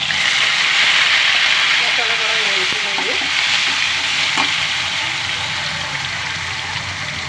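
Masala frying in oil for a fish curry, a steady loud sizzle with occasional stirring scrapes throughout, close by with no talking.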